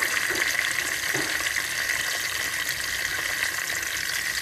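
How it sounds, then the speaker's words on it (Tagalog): Onions going into garlic already browned in a hot pan, giving a steady, close crackling sizzle with a bright hiss that holds evenly throughout, no talking. "Ngayon ilalagay ko na yung sibuyas or onion."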